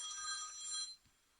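A telephone rings in a single burst of bright, warbling electronic tone lasting about a second. It is fairly quiet and then cuts off into near silence.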